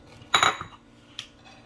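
Salad with tomatoes being tossed with dressing gives a brief clatter of utensils against a bowl, followed by a single softer clink, close and with no voices.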